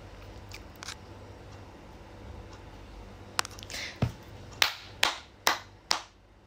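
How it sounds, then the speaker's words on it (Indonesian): Hands clap several times at close range, a few scattered claps first and then four sharp, evenly spaced claps near the end over a quiet indoor background. "Ini lagi tepuk tangan ya,"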